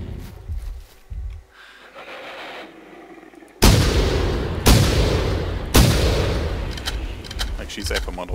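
Three loud, sharp gunshots boom in theHunter: Primal, each followed by a long ringing decay, after a quieter stretch with some speech.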